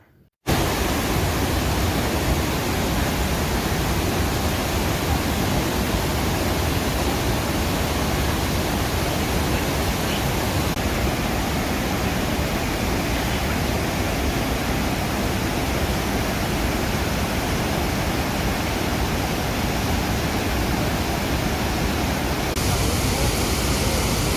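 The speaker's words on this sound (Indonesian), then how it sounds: "Marilah kita akan mendengarkan dan melihat, menyaksikan air terjun Iguazu. Suaranya yang luar biasa." A dense, unbroken roar of falling water fills the whole stretch, loud and constant, from Iguazu Falls close by.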